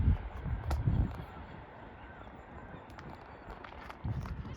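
A flock of seagulls calls over a railway station at Grangetown during rush hour, with a few short squawks at the start and end over a steady low background rumble.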